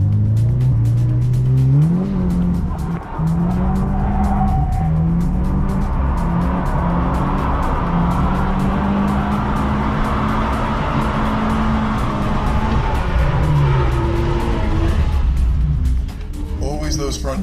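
A BMW drifts on a race track, its engine revving hard and continuously with rising and falling pitch as the rear wheels slide, loud and close from inside the car, with a burst of tire noise near the end.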